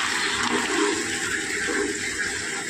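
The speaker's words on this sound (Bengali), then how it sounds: "এবার আমি এর মধ্যে দিয়ে দেবো জল" Water pours steadily into a pan of fried lentils for dal chachori, a continuous close rushing splash lasting the whole moment with no speech.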